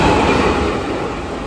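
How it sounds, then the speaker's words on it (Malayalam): A long-distance train running from Secunderabad toward Thiruvananthapuram rumbles past, with a steady, loud, broad roar that eases slightly over its short span and no talk. "ഇപ്പോൾ പോയ ട്രെയിൻ എന്ന് പറയുന്നത് തിരുപ്പതി സെക്കന്ദരാബാദിൽ നിന്ന് തിരുവനന്തപുരത്തേക്ക് വരുന്ന ലോങ് ഓടുന്ന ട്രെയിനാണ് കേട്ടോ"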